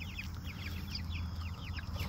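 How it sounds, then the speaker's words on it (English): Buff-laced Polish chickens clucking in a busy run of short, repeated calls, close and steady over a low background hum. "here we have the buff-laced Polish chickens."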